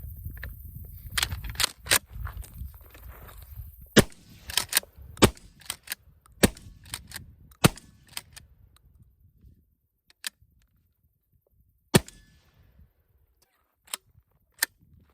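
TriStar Cobra III 12 gauge pump shotgun firing outdoors, a series of sharp distant-sounding reports, irregularly spaced, clustered early and thinning out later.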